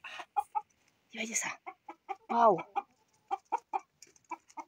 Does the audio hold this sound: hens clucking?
yes